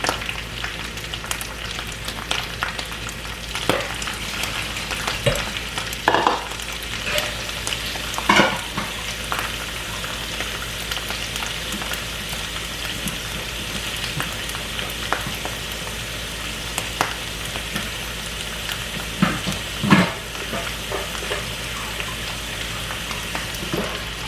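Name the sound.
shrimp frying and being stirred in a pan for fried rice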